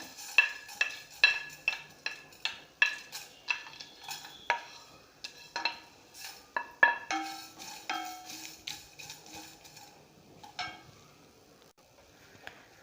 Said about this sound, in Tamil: இப்போ நம்ம இதெல்லாம் ட்ரை ரோஸ்ட் பண்ணிவிட்டு கிரைண்ட் பண்ணிக்கலாம்.